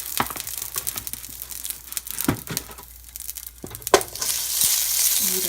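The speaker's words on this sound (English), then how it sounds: "whenever you put any kind of product in a skillet, move it around" Quorn veggie grilled chicken pieces frying in a skillet, giving a steady sizzle broken by sharp scrapes and clatters as they are moved around, with the sizzle growing louder and denser toward the end.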